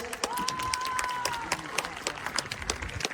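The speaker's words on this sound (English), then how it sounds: "Give a big round of claps, please." Audience applause at a school investiture ceremony, a steady wash of many hands clapping with crowd murmur and a whistle-like tone early on, fairly loud and continuous throughout.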